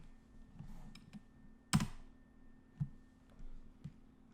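Quiet computer keyboard typing of terminal commands, a handful of soft, irregular key clicks with one louder press, close and faint in a still room.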